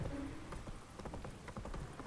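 Roach's hooves clip-clop steadily as the horse is ridden downhill during a storm in The Witcher 3, a quick, even gallop rhythm of soft thuds over faint rain-like hiss.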